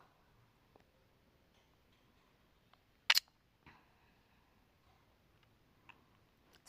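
A single sharp phone screenshot shutter click sounds once, crisp and close, amid near silence with a few faint ticks around it.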